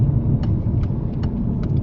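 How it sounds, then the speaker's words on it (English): A classic car passes in the opposite direction, its engine giving a steady, loud rumble close by with no talk over it. "Nice little classic going the other way."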